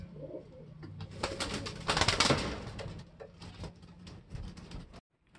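A gamecock flutters and shuffles close by amid soft rustling and scraping, with a few quiet throaty sounds before it goes silent.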